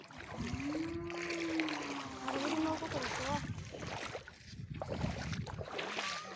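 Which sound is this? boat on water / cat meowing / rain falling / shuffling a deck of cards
boat on water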